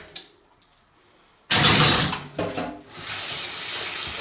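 Water gushes from a tap in a strong stream after a couple of light clinks, splashing steadily into a bowl.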